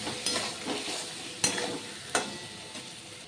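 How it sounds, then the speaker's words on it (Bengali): Ground spices such as turmeric and salt are stirred and fried in a pan for an Assamese rohu fish tenga. A soft continuous sizzle runs under brushing stirs, with two sharper scrapes of the spoon against the pan. "এবার সব মশলাগুলো ভালো করে নেড়ে চেড়ে কষিয়ে নেব"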